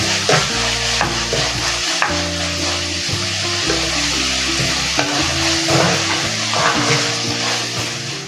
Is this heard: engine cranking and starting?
no